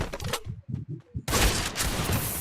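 Sniper fire in a battle royale video game, a few sharp reports early on, then after a short lull a loud, sustained barrage of gunfire fills the rest of the clip.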